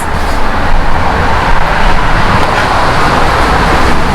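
Road traffic rolls past continuously near a parked 1986 Westfalia camper van on Maui, giving a loud broadband wash of tire and engine noise that swells and eases as cars go by.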